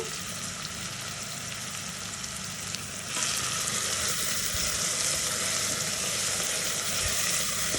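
Chopped onions fry loudly in a pan for a risotto, with a steady close sizzle that gets louder and brighter halfway through as more heat or food is added. Nobody talks.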